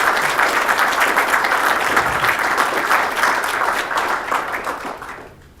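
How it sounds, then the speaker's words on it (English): A large audience gives a big round of applause to veterans at a Black History Month event on African Americans in wartime, dense and loud throughout, fading at the very end. "Let's give these gentlemen a big round of applause"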